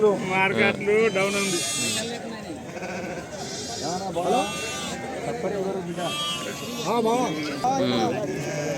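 Sheep bleat again and again at a busy Pebbair sheep market, loud and close, over steady crowd noise and people talking throughout.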